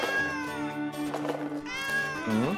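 A domestic cat meows several times in a row, close and fairly loud, with drawn-out, harmonically rich cries and a rising call at the end, in a home kitchen while it is being fed.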